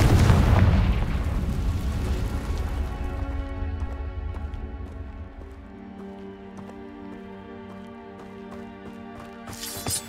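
A Confringo blasting spell goes off as a loud, close explosion with a heavy low boom that rumbles and slowly fades over several seconds into a lingering tail.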